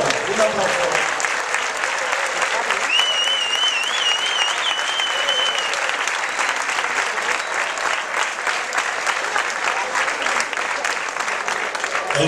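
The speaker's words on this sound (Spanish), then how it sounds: "Un aplauso." Sustained, loud audience applause at a summer concert by a community band and choir, dense clapping from a large crowd with a brief whistle and some voices mixed in throughout.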